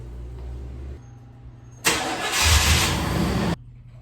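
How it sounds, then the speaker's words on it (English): A Chevrolet Silverado K1500 pickup with a 5.7L V8 cranks briefly after a low idle hum, then fires and catches with a loud burst before settling. The start comes from close by, with no talking. "At this point, I'm gonna start the truck and then let it run with the heater on."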